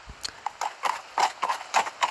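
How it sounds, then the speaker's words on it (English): Horse hooves clip-clop in an irregular, scuffling rhythm across a dead, dry plain, close and moderately loud, with no voices over them. "I can hardly hear my horse's hooves scuffling against the dead, dry plain"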